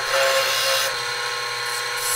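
A steady, close scraping hiss of a quarter-inch parting tool biting into a spinning wooden bowl on a lathe, forming a mortise, continuous with a slight change in tone partway through.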